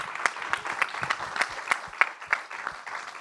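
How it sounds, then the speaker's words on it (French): A small audience at a talk on inclusive innovation applauds three speakers, with sparse, distinct handclaps from a few people in a fairly steady, uneven rhythm close by. "je vous propose d'applaudir effectivement nos trois intervenants"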